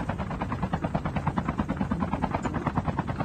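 A helicopter in the mobile shooter Call of Duty Mobile, battle royale mode, with a steady thumping rotor pulse and engine drone that stays loud and close throughout.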